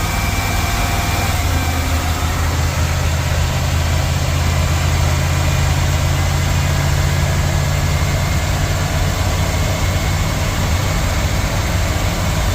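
A 2000 Chevrolet Express 2500 van with an oil leak idles nearby, its engine giving a steady, loud, unbroken drone with a low hum and a faint whine, and no one talking.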